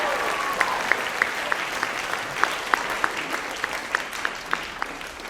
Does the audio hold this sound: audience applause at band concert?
yes